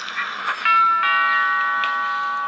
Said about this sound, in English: Kinda late for a doorbell.